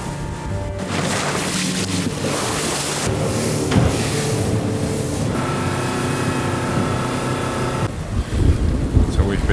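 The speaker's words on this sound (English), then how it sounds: "we figured that the wind was only getting stronger and the waves only higher" Strong wind buffets a small boat at sea off Norway in worsening stormy weather, with heavy gusts roaring across the microphone and waves sloshing and slapping against the hull throughout, loud and close.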